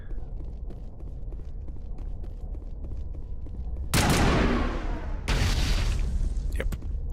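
Creatures explode during Mass Effect combat on Noveria with two loud, broad bursts of blast noise over a low, steady background rumble.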